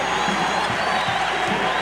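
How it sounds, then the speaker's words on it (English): Roar of a basketball crowd cheering in Cole Field House during a North Carolina at Maryland game, a broad, steady wash of voices heard from within the arena. "Crowd really picking up the tempo."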